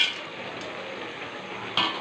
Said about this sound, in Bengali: এই যে বড়িটা আছে এটাকে গুঁড়ো করে এবার দিয়ে দেবো এর মধ্যে।